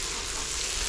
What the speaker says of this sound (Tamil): இப்போ அதுக்குள்ள வந்து சிக்கன் சேர்த்துக்கலாம்